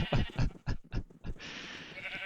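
Red sheep in Minecraft bleating, several quick nasal bleats in a row followed by a longer drawn-out call, close and clear with no talking.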